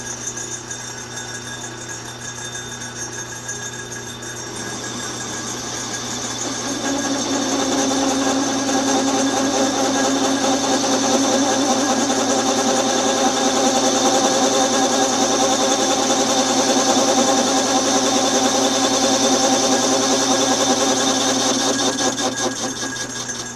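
Metal lathe turning a foundry pattern with a round nose tool, a steady motor hum joined by a sustained buzzing chatter as the cut deepens, loud and close with no talking.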